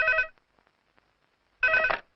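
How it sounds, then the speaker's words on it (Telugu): A telephone rings indoors in two loud electronic bursts separated by a silent gap of over a second, with no talk over it. "అదిగో ఆయన ఫోన్."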